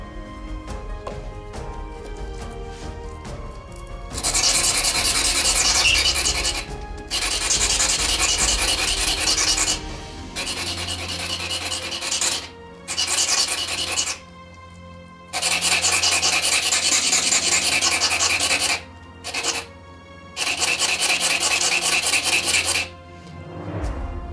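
A diamond-shaped leather awl blade is sharpened on 180 grit abrasive in long, loud rasping strokes, repeated in bursts separated by short pauses, with no talking.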